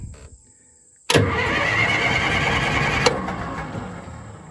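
A compact track loader's diesel engine cranks and catches after a quiet second, then idles loudly and steadily with a brief rev bump near the end, close to the machine.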